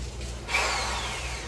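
A power drill bores a hole in a garage wall to mount organizers, starting abruptly with a loud, steady whirring grind that carries on to the end.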